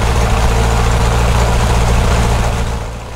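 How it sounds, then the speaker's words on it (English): A Cessna 152's piston engine runs at steady power during a pre-flight run-up, loud and close with a constant low droning hum, slightly rough from carbon deposits on the spark plugs, easing off near the end. "I find the engine running a bit rough because of carbon deposits on the spark plug"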